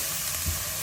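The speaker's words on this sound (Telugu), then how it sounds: "ఇప్పుడు చక్కగా ఫ్రై అవుతుంది." Spinach fries in a pan once its water has cooked off, with green chili and curry leaves in the tempering, giving a steady, close, dense sizzle with no voices.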